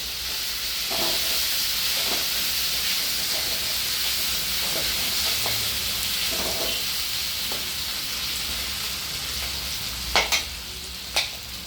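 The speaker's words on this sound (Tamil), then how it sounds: "நல்லா அந்த எண்ணெயிலே நல்லா வதங்கட்டும்" Ginger and turmeric powder sauté in hot oil for an instant ginger pickle, giving an even, moderate hiss broken by light stirring clicks and two sharp knocks near the end.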